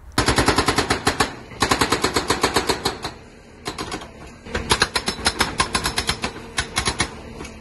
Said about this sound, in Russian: Трактор может выполнять функции по демонтированию зданий, сооружений, фундаментов при помощи отбойного молота